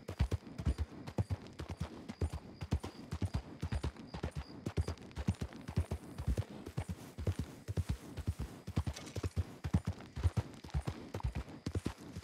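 Horses walk on hard ground, hooves clip-clopping in a steady, uneven rhythm of many overlapping strikes close by, continuing without pause.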